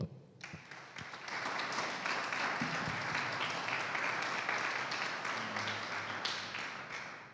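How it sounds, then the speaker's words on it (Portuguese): A church congregation applauds during a service, a sustained, even roar of many hands clapping that swells after a moment and continues steadily, fairly soft overall. "Vamos aplaudir o Senhor?"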